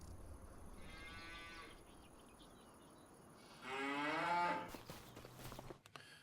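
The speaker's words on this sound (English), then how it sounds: "You see those cows right there." Cattle in a pasture in the farming video game Farming Simulator 25 moo twice. A softer moo comes first, then a louder, closer one, over a quiet ambient background.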